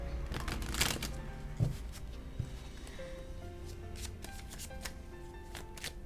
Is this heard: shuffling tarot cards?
yes